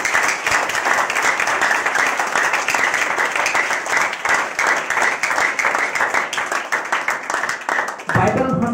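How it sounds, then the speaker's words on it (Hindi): Church congregation clapping together in a steady, lively round of applause, dense and sustained, with voices mixed in beneath the clapping. "और एक जिंदा ताली परमेश्वर के लिए बजाएं।"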